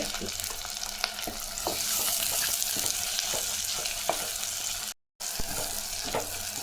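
Onions sautéing in oil with cinnamon, cloves and fennel for Kumbakonam kadappa, a continuous close sizzle with soft stirring scrapes, briefly cut to silence near the end.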